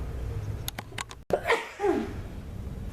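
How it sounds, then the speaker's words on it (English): One person sneezes sharply and close by in a kitchen during soap making, a quick burst followed by a short breathy tail, with quiet background and a few faint clicks just before. "I just had to sneeze, but I sneezed the other direction."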